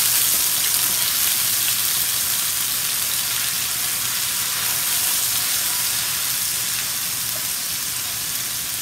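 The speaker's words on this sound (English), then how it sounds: "when you are frying ginger garlic paste" Ginger and garlic paste fries in hot oil in a pan, a dense, steady sizzle and crackle running loud and unbroken throughout.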